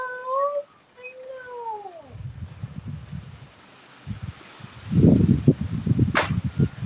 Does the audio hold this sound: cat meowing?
yes